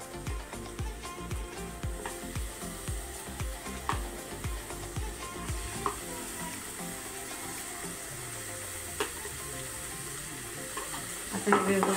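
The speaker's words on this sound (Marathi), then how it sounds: "असं व्यवस्थित फ्राय करून घ्यायचं आहे आपल्याला" Onion-coconut masala paste frying with spices in a pan makes a steady close sizzle, with rhythmic stirring scrapes in the first seconds and occasional clinks of the utensil.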